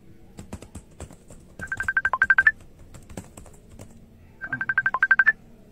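A phone rings while a call is placed, with two short bursts of rapid electronic trills, soft taps in front of each burst, close and clear with no talking.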